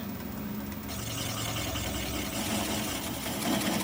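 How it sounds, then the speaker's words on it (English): Steady, dense hum of a wood lathe turning a mulberry live-edge bowl at low speed, a gouge riding the bowl's bottom with a continuous rough scraping texture, close and even throughout with no talk. "I'm going to apply the bevel of the gouge against the bottom of the bowl"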